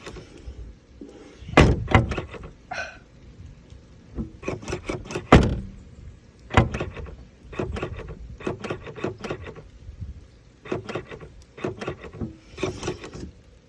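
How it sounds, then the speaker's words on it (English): Rear glass latch on a 2016 Cadillac Escalade with a fault, repeatedly clunking and rattling as it pops back open, in irregular bursts of knocks and mechanical thuds inside the vehicle. "It's my back window latch. I close it, it just pops it back open."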